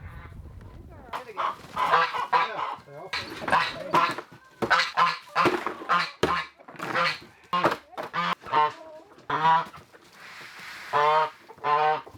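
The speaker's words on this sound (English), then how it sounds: "Just disrupted that hen. She was not happy." A hen squawks loudly again and again in harsh, agitated bursts, close up, with short gaps between the cries.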